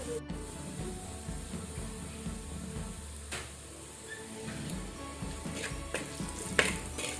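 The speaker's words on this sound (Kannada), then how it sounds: "ಈಗ ನಮ್ಮ ಈರುಳ್ಳಿ ಕೆಂಪಾಗಿ ಫ್ರೈ ಆಗಿದೆ, ನೋಡ್ಬೋದು ನೀವಿಲ್ಲಿ." Onions sizzle steadily as they fry in coconut oil and ghee for a Desi chicken sukkha, with a constant hiss and occasional stirring scrapes close by.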